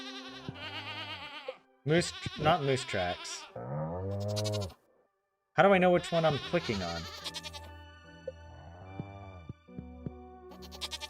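Farm goats in Stardew Valley let out several wavering, nasal bleats, one after another, loud and close, while a person talks over and between them.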